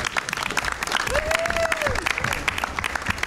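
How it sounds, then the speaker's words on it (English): A crowd at a task force meeting applauds steadily, dense clapping filling the room, with a brief tonal whistle rising and holding in the middle. "We need to give Rose a round of applause"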